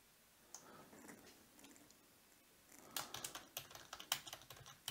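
Typing on a computer keyboard while writing Arduino code, a soft tapping that starts sparse and then quickens into a dense run of close, quiet keystrokes.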